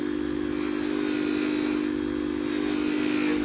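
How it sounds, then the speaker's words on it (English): Small polishing wheel buffing parts from a vintage Doll 362 twin steam engine, a steady loud motor whine with a constant pitched hum and no breaks, no voices. "I'll just put that on that wheel, my little polishing wheel."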